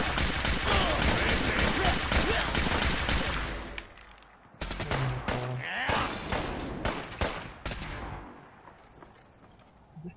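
Automatic fire from a machine gun fitted with a fusion core in Fallout 4's Far Harbor expansion, survival mode: dense, loud bursts crowd the first few seconds, then scattered sharper shots and impacts follow, with some game sounds mixed in.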